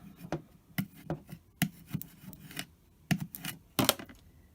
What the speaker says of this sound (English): just press it into place. And I'll give that a burnish over.